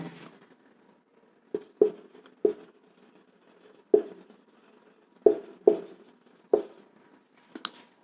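Chalk or marker writing a sentence on a board during an English grammar lesson: sharp taps and short scratchy strokes in irregular clusters, close and fairly quiet, with near silence between them.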